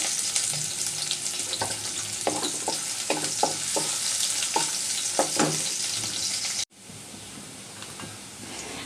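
Garlic and chopped onion sizzling in hot oil for a taro-leaf dish, a loud close crackle with intermittent spatula clinks, then a sudden cut to a quieter, softer sizzle.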